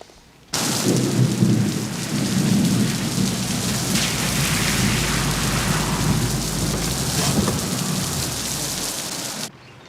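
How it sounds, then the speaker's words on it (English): Heavy rain pours steadily while thunder rumbles low and long beneath it; the storm starts abruptly and cuts off at the end. "Gonna rain."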